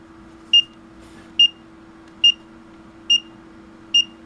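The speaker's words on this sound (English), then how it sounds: "So it's going to beep on every update." Five short, high electronic beeps from a Brymen BM786 digital multimeter in record mode, beeping on every update, repeat at an even pace, about one each second, over a low steady hum.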